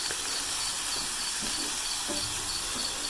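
Masala spices frying in a pan for a black chickpea curry, a steady close sizzle and hiss with faint scattered pops, no talking.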